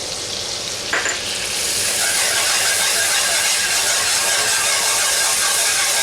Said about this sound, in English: I'm just going to stir that around good and get that all incorporated